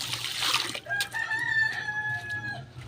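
Chickens cluck and a rooster crows nearby, with one drawn-out crow rising over a running background wash.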